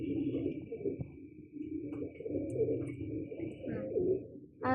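Pigeons coo close by in low, rolling, overlapping murmurs that run almost continuously, with a faint steady tone above and a brief flutter near the end.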